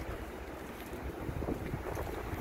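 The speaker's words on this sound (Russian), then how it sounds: "Я слышу шум трассы, шум моря." Steady wash of sea and distant highway traffic noise with wind buffeting the microphone, no voices, in Lazarevskoye.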